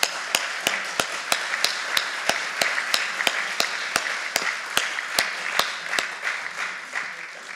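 An audience at a lecture on the end of life claps steadily and fairly quietly, with sharp, evenly spaced claps standing out above the general applause.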